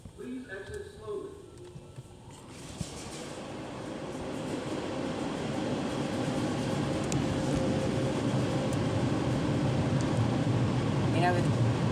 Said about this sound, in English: What do you think of the dryer?